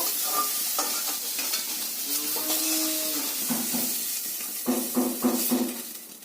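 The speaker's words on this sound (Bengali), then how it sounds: "সোয়াবিনগুলোকে ভালো করে খুব ভালো করে ভেজে নিতে হবে" Soybean chunks fry in hot oil with a steady sizzle while a spatula scrapes and stirs the pan in repeated rhythmic strokes, close and fairly loud.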